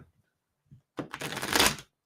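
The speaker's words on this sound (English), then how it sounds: "I'm going to shuffle these one more time just to make sure" A deck of psychic reading cards is shuffled once, a short close riffle of fluttering paper rising to a dense burst and then stopping, after a few faint taps and rustles.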